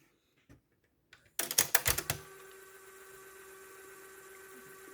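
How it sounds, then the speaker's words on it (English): A Panasonic RS-TR265 cassette deck clicks as its button is pressed, then settles into a steady, quiet whirring hum as the tape runs in fast forward, heard up close and alone. "So we're going to press fast forward here."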